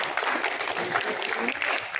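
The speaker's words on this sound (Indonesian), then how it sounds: "Oh, tepuk tangan buat Anda semua ya" A seminar audience in Bandung breaks into applause, a continuous, moderately faint patter of many hands clapping across a room, with voices mixed in beneath it.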